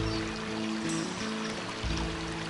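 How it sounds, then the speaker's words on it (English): Steady flowing water from a small creek with little cascades, a continuous close rushing and trickling with no voices. "This is quite a nice creek."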